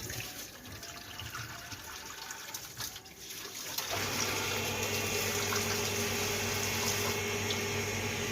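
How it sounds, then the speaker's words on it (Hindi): Water runs steadily into a container during household cleaning, a continuous rushing pour that grows fuller and louder partway through, with no talking. "तो सबसे पहले मैं इसमें डालूंगी पानी"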